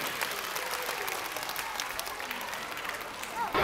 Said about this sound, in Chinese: 掌声欢迎卖造玩具小偷。